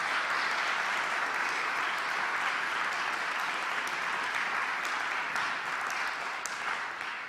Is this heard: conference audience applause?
yes